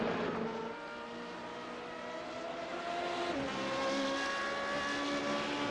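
Formula 3.5 open-wheel race cars scream around Watkins Glen in iRacing, several engines layered with high whining tones that shift pitch as one car changes gear midway, a steady loud pack sound with no voices.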